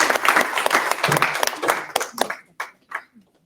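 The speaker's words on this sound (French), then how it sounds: "je crois qu'on peut l'applaudir" Audience clapping for a speaker at a closing session of a workshop presentation event, a moderate burst that thins out into a few scattered final claps as it fades.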